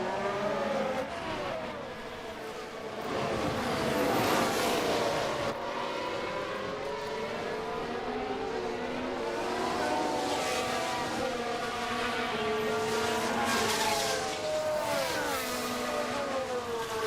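Formula 1 race cars in the F1 Manager 2023 game battle on track at Melbourne, a continuous loud engine whine with shifting, overlapping pitches that rise and fall as the cars chase each other.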